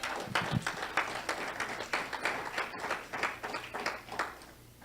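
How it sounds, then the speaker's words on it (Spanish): Church congregation clapping in praise during a Spanish-language sermon, a loose, moderate round of applause with uneven bursts that carries on steadily and fades slightly near the end. "¿Puede darle un aplauso al Señor?"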